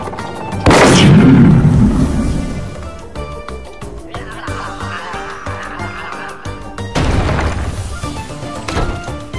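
A steered shot crashes into a tower in an Xbox 360 Kinect wrecking game, landing as a loud booming smash with rumbling debris, followed by clattering and a second heavy impact later.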